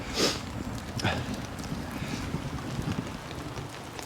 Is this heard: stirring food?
no